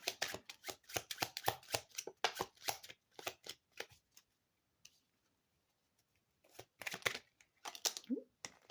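Tarot cards shuffled by hand in repeated quick riffling bursts, a pause of near silence midway, then more crisp shuffling near the end.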